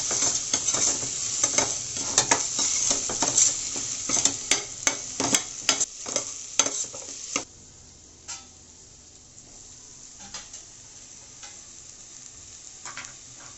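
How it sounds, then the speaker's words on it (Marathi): Pulav masala sautéing in a pan for a vegetable pulav, with a steady sizzle and a run of sharp spoon scrapes and taps against the pan that stop partway through, leaving a quieter sizzle with occasional clinks. "मस्तपैकी आपण त्यातमध्ये परतून घेऊया मसाला."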